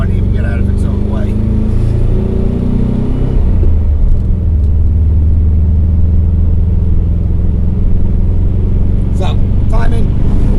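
A 1978 VW Super Beetle fuel-injected engine idles roughly with its timing set far too advanced: a loud, continuous low throbbing drone with uneven pulsing, while people talk over it.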